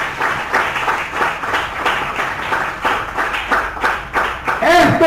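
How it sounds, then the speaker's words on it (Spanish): Church congregation applauding together, sustained clapping across the whole stretch with the noise of a large room, and a voice rising briefly near the end. "Vamos a brindarle un fuerte aplauso a nuestro Dios."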